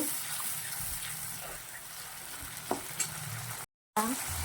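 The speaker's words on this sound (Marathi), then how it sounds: "मी मिक्सरच्या बाउलची मध्ये बारीक केलेली हिरवी मिरची आणि टमाट्याची पेस्ट टाकली आहे" Green chili and tomato paste fry in a pan, giving a steady close sizzle with occasional stirring scrapes and one brief dropout near the end.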